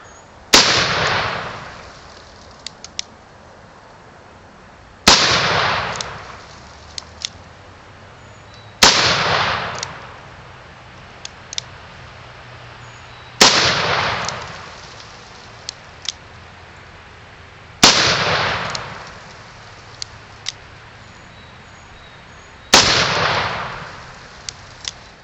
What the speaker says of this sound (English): single action by pulling the hammer back and then the round is fired